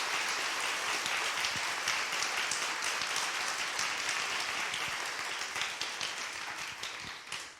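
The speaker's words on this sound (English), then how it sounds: "Let's have a round of applause for all of our amazing nominees." An audience at an elementary school special education awards ceremony applauds its nominees, with dense, steady clapping filling the room throughout and tapering slightly near the end.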